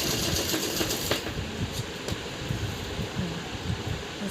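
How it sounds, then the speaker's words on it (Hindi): A sewing machine stitching cloth in a tailoring lesson, a close steady rapid whirring and clatter running continuously throughout with no talk. "आधा इंच कपड़ा रखकर डबल सिलाई मारेंगे"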